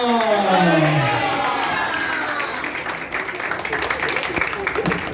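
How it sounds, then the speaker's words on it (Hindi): Applause and cheering from a live audience at a Hindi poetry recital, a broad, steady wash of clapping and voices filling the room with a few louder whoops over it. "एक बार और जोर से तालियां हो जाए"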